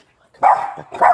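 A dog barks twice, fairly close, amid a tense police encounter outdoors; two short sharp barks about half a second apart with quiet between.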